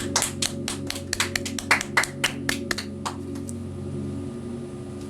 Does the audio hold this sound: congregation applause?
yes